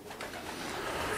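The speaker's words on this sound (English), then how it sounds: "I have 8 pairs here, proven bird racer" Racing pigeons cooing in a breeding loft in Atlanta, Georgia, a soft continuous murmur of overlapping coos from several birds, close and steady with no talk over it.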